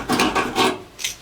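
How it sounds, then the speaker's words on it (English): Deburring freshly drilled holes in metal for riv nuts on a Ford Transit bed install produces short, close rasping scrapes in a few quick strokes with brief pauses, heard alone. "After we drill, we always deburr the holes that are going to receive riv nuts."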